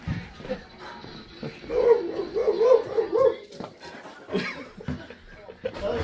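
A dog gives a run of yips and whining barks in the middle stretch, fairly close, with human chuckling around it.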